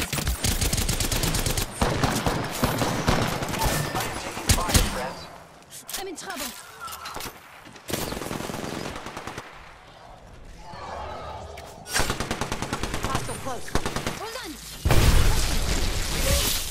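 Rapid automatic gunfire in the battle royale game Apex Legends, loud sustained bursts broken by short pauses and a quieter stretch, with a player talking over parts of the firefight.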